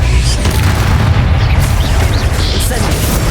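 Bombarda blasting spell in the Hogwarts Legacy video game, a dense sustained booming explosion with heavy low rumble and crackling bursts filling the whole stretch, loud and close.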